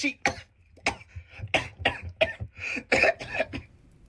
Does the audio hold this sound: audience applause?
no